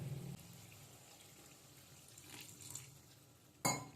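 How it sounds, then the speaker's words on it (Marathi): Water pours into a pan of mushroom masala with a steady, soft splashing rush, then a sudden louder hissing burst near the end. "मी थोडंसं पाणी टाकते"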